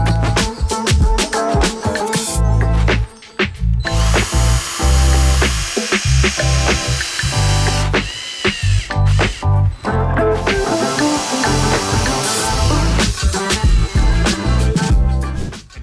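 A power screwdriver whirs in repeated short bursts, driving screws into wooden slats with sharp starts and stops, loud and close.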